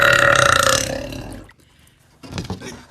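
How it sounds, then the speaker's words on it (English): A thick, deep human burp rumbles loudly for over a second, followed by a brief pause and a shorter, quieter gurgling belch. "burping like a storm."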